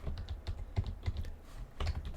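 Typing on a computer keyboard, a quick irregular run of crisp key clicks and taps, close and distinct, with a brief pause before another burst of keystrokes.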